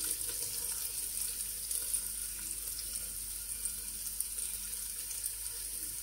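Onion and carrot frying together in a pan, a steady soft sizzle and hiss that continues with no talking.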